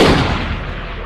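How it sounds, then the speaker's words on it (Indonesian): A loud, booming gunshot from a film scene, with a heavy low-frequency blast that rolls and fades over about a second. "mereka pun menembak tangan dan perut Franklin menggunakan senapan miliknya"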